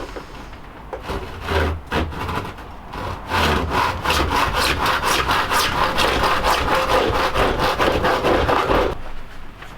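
Steady saw strokes cut through part of a Honda CB250 scrambler's rear fender, a fast rhythmic back-and-forth rasp running close and loud for most of the stretch, with short pauses near the start.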